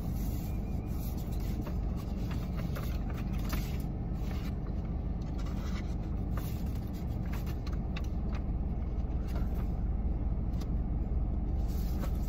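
From inside a moving car, a continuous low engine and road rumble fills the cabin, steady and fairly loud, with faint rattles and scrapes scattered over it.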